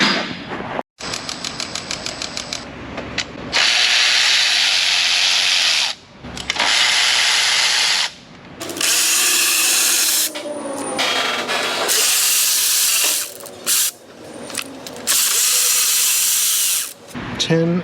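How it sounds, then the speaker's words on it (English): Bursts of a power tool whirring and rattling in short runs as it loosens 10mm bolts with deep sockets on a car's intake plenum, loud and close, separated by brief pauses, with faint talk underneath. "Let me get the power tool on these."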